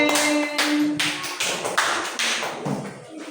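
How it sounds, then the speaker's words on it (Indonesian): Children in a primary school classroom clap together in applause. The clapping is steady and moderately loud, swelling and fading in bursts, with a faint tonal hum underneath. "Tepuk tangan lagi"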